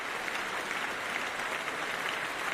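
Stadium crowd at the Stade de France applauding at a Paralympic para athletics session, a dense, steady wash of clapping and cheering from a large audience, sustained and even throughout.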